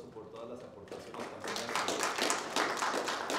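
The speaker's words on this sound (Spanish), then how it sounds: "Un aplauso por todas las aportaciones." Applause rises from a room of people, starting over a voice and swelling into steady, moderately loud clapping.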